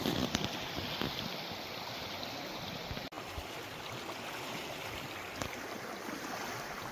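A swollen creek rushes past an Alaska campground in a steady, fairly faint wash of water, with light wind noise on the microphone.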